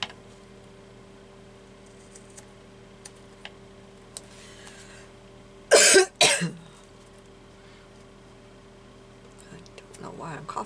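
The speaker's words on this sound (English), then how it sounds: "I don't know why I'm coughing all of a sudden" Two quick coughs close to the microphone break an otherwise quiet room with faint ticking.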